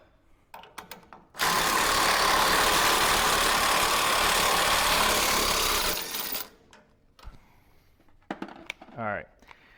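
A Snap-on impact wrench runs in one loud, steady burst of about five seconds while working a tight nut on a dwarf race car, with brief quieter clatter and a short voice before and after.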